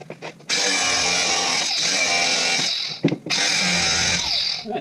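Power tool grinding metal, a loud steady high-pitched whine running for a few seconds, a brief dip with a clunk, then restarting and continuing close up.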